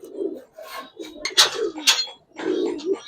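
Coloured Gribaz pigeons coo nearby in several low, throaty bursts, mixed with scratchy rustling and wing or foot scraping between calls.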